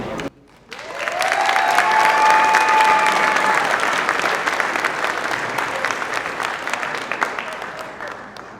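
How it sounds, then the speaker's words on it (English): Sustained audience applause for Israel Cisneros at the Hartnell College Athletics Hall of Fame, dense clapping that swells after a brief quiet moment and holds steady, with a few faint cheers and a voice-like tone under the crowd. "Once again, a round of applause for Israel Cisneros"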